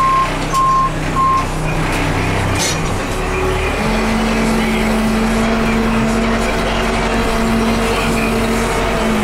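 A Case backhoe reverses with steady high-pitched backup beeps repeating over a loud diesel engine rumble, close by.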